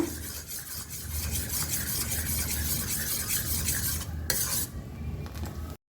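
Thick jaggery syrup bubbling in a pan while a utensil stirs and scrapes it, a steady close scraping and simmering texture with a brief metallic clink near the end.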